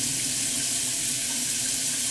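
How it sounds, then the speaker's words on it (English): Hot water runs steadily from a kitchen tap into a cup, a continuous close hiss and splash holding even for about two seconds with no talking. "I'm gonna get some hot water in a cup"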